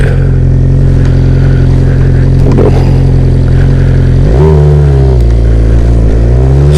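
Suzuki GSX-R 600 sport bike engine loud and close while riding, a steady droning note that dips and climbs again as the throttle changes, with wind rush over it and no talking.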